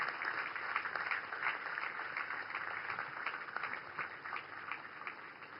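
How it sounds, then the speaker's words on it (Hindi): A large ceremonial audience claps in a steady, even wash of applause at a navy warship commissioning, heard at a moderate level without any voices over it. "जोरदार तालियों के साथ स्वागत कीजिए आईएनएस सूरत, आईएनएस नीलगिरी"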